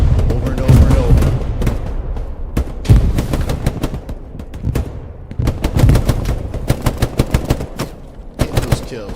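Bursts of machine gun fire crackle through a competitive video game match, with loud rapid volleys and single shots coming in clusters, close and dense.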